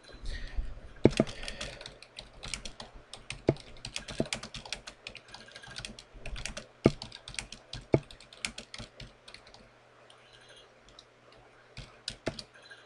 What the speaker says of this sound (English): just type something silly in there